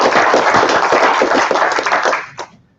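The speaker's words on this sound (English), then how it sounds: "let's have a quick round of applause for our graduates" Audience at a computer science teacher workshop clapping for graduates: a brief, close round of applause with sharp, dense hand claps that tapers off quickly and ends after a few seconds.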